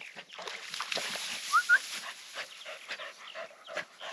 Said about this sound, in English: And it's a rat dog.